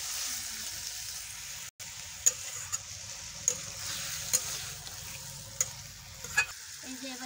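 Cauliflower stalks sauté in a pan with mustard paste waiting, a quiet sizzle broken by regular sharp taps and scrapes of a spatula stirring, close by and without talk.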